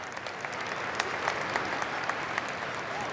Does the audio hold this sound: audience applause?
yes